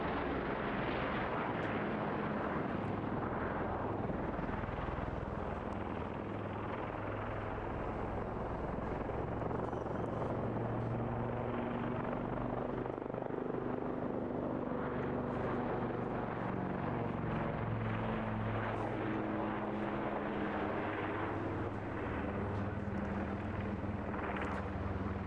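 AgustaWestland AW159 Wildcat helicopter flying at an airshow, a loud, continuous rotor and turbine roar that holds steady throughout, with a wind-buffeted rumble and no talk.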